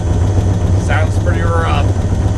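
An LS V8 swapped into a Nissan 240SX S13 idles roughly with a fresh exhaust, a steady low rumble close by with some uneven wavering, while a person talks briefly over it.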